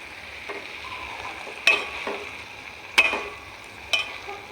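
Gongura and chana dal curry is stirred in a pan over a soft sizzle, with three distinct sharp scraping knocks from the utensil against the metal at roughly one-second intervals.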